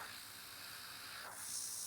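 Airbrush spraying paint onto nail art petals, a soft continuous hiss of air that stays faint and even, brightening slightly near the end, with no voices.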